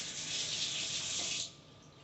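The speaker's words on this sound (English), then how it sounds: "Let me rinse this off." Water runs from a kitchen tap into a sink as something is rinsed off: a steady, close hiss for about a second and a half, then quieter.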